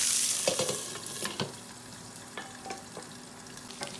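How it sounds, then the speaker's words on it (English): Drumstick and potato curry sautéing in a pan, a soft steady sizzle with a few clinks and scrapes of stirring, close and fairly quiet with no speech. "I will be cooking for just sauteing for the 5 minutes"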